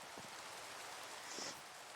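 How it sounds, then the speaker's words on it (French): Rain falls in the Minecraft video game, a quiet steady patter of drops spread evenly across the clip, with no talk over it. "j'aime pas quand il pleut, c'est relou. Il pleut tout le temps là."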